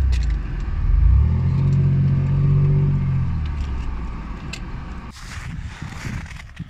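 A Toyota Land Cruiser 200 crawls off-road over a deep washout on a forest track, its engine rumbling close and swelling before fading, followed by a few scraping crunches near the end.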